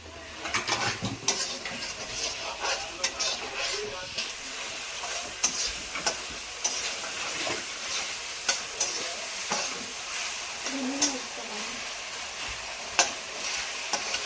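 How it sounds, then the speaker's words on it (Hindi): Mixed vegetables for a soupy noodle dish sizzle in a hot pan as a utensil stirs and scrapes them, with repeated sharp clinks of metal on the pan over a steady frying hiss. "अब इसमें सारी सब्जी डलवा दूंगी।"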